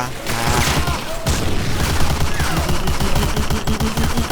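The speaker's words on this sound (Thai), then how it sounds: "ยิงให้หมดแม็ก" Sustained automatic gunfire empties a full magazine in the war shooter game Medal of Honor Breakthrough, a loud, rapid, dense burst that runs the whole time over low rumble, with no one talking.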